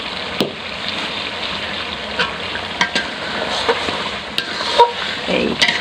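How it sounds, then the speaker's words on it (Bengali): Spices frying and being stirred in a pan over a village stove for a traditional Barisal dish; a steady sizzle runs throughout, with scattered scrapes and clinks from stirring, close and moderately loud. "এখন কষাইতেছি। সুরমা এটা একটু দাও, নাড়া দাও।"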